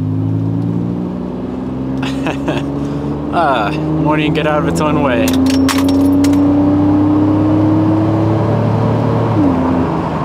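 A Mitsubishi Evo 8 in mid-restoration accelerates hard, its engine rising in pitch through several gear pulls with clicks and rattles inside the cabin while someone talks briefly.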